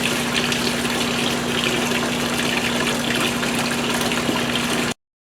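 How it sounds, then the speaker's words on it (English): Water gushes steadily through an aquaponics grow bed's auto-siphon, a loud, continuous flow with a faint pump hum underneath before cutting off abruptly near the end. "we're going to test it out to make sure our siphon works before we put any media in there"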